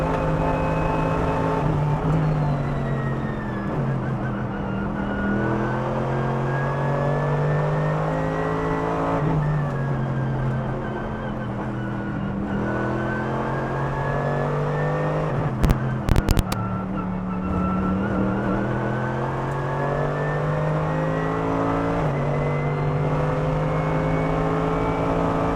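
A Mercedes-AMG GT3 race car lapping the Nordschleife, its engine droning loud and constant from inside the cockpit, pitch rising through gears and dipping on lifts, with a brief clunk partway through.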